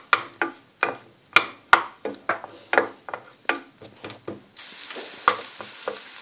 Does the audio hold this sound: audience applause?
no